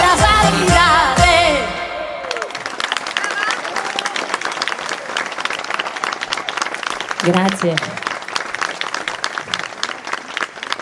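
Audience applause after a song at a live outdoor event broadcast from Tortolì: a brief stretch of music gives way to sustained, steady clapping that fills the rest of the clip while someone speaks over it.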